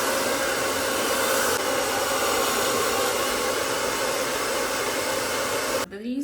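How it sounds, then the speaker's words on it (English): A handheld blow dryer roars steadily at close range while drying hair for a sleek ponytail, a dense continuous whoosh that holds for about six seconds before cutting off abruptly near the end. "I'm gonna go in with a blow dryer and I'm going to dry it."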